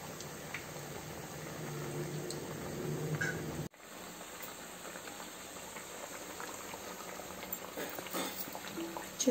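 Bottle gourd vadas fry in hot oil, a soft continuous bubbling sizzle at low level with faint crackles and a brief dropout partway through, no talking.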